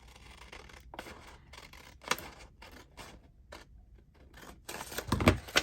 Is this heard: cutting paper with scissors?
yes